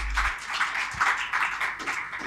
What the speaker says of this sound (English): could we give these incredible women leaders a big round of applause?